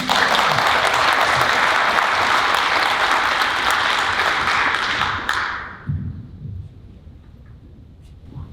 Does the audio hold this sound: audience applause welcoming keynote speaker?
yes